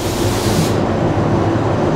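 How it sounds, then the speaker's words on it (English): A paint sprayer applies a spray-fill primer coat to a composite propeller blade in a propeller shop, a loud, continuous close hiss that drops slightly in brightness partway through. "The spray fill is sprayed on the blade."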